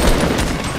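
Dense gunfire in Fortnite during a chaotic fight, with rapid overlapping shots and booms packed into a brief, loud burst.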